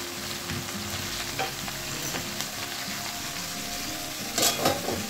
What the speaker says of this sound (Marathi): तर छान असं मिक्स करून घेऊ।